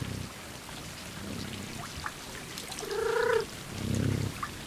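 A cat in the game Stray gives a short, clear meow amid soft patter-like ambience and low thumps, heard alone with no talking.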